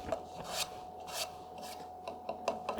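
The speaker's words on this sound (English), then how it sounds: "Getting a little chatter out of the piece." A lathe gouge rasping against a thin-walled turned wood piece, rhythmic bursts of scraping chatter at close range, repeating every half second or so over a faint steady hum.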